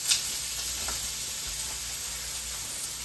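Beef patty meat, torn into pieces, sizzles steadily in a hot pan with a constant bright hiss and faint crackles, close and alone with no talking.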